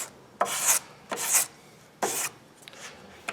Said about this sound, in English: Same thing as when you're color sanding the car after it's been painted.